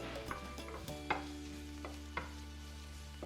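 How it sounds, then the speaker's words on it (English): Garlic and ginger stir-fried in a tablespoon of hot oil over medium-high heat for a Chinese vegetable side dish. A steady close sizzle is broken by a few sharp spatula clacks, with a low steady hum underneath. "Add the garlic and ginger and stir fry for a few seconds until fragrant."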